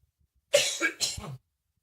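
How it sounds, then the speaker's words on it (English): Two harsh coughs close up, one right after the other, in an otherwise quiet room. "there's a lot of those coughs in there from both of us"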